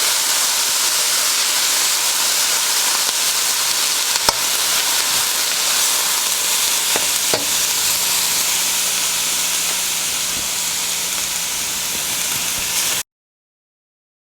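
Onions fry in a pan with a steady, dense hiss that holds at an even level for about thirteen seconds before cutting off, a couple of faint clicks breaking through and no voices.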